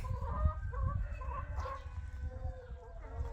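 Several chickens cluck in a home garden, with repeated close hen calls over a low, steady background and no talk.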